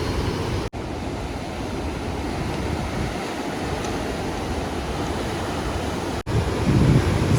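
Big ocean surf breaking on the Tenerife coast roars in a continuous heavy wash, with strong wind buffeting the microphone and two brief dropouts, and no one speaking.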